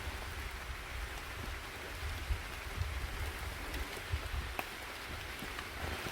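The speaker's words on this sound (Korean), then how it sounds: "비 옵니다" Rain falls steadily outdoors on a mountain trail, a soft, even patter with occasional nearby drips and light thuds, moderately faint throughout.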